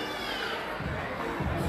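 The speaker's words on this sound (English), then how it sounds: "Look at the crowds." A dense crowd murmurs and cheers at a Spider-Man movie event in Jamuna Future Park, a loud continuous wash of many voices with children's shouts rising near the end.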